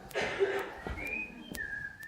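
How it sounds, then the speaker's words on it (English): A person whistles a few sliding, wavering notes, close by, with small clicks and a brief breath in between. "will you stop whistling?"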